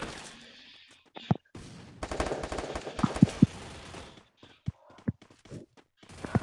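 Bursts of gunfire in a shooter video game, several sharp shots and short rapid volleys separated by quieter gaps, with a few other game sounds between them.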